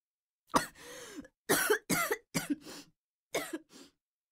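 A person coughs repeatedly in short, harsh bursts separated by brief pauses, close and clear against silence.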